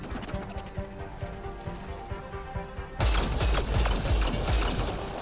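Video game gunfire in Mass Effect Andromeda aimed at the player, rapid bursts of shots with sharp impacts, growing into a dense, louder barrage in the second half.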